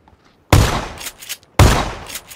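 Two loud, close shotgun blasts in PUBG about a second apart, each a sharp booming crack with a short decaying tail, with faint rustling between.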